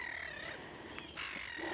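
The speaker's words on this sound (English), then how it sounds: "Got plenty of black-headed gulls." Black-headed gulls give short harsh calls on the Farne Islands seabird colony. The calls are faint and distant over steady outdoor background noise, with no talking.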